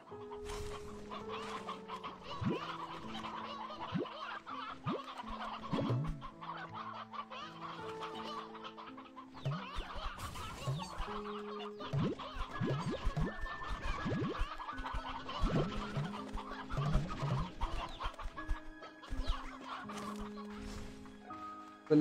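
Chickens cluck and squawk in a video game, with frequent close calls scattered over a busy musical game soundtrack, no speech heard.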